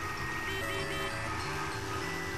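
A moped horn in the video game Bully sounds repeatedly in short tonal beeps over a constant, steady engine-like drone.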